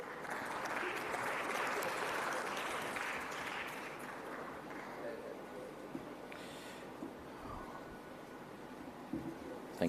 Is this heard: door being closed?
no